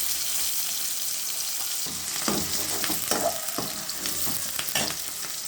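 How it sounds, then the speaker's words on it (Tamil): Onions frying in a pan with a constant loud sizzle, joined midway by several scraping stirs of a spoon, then the hiss continuing alone. "அப்பப்போ நல்லா கிண்டி விடணும். அப்புறம் நல்லா வதங்கணும். வெங்காயம் நல்லா வதங்கணும்."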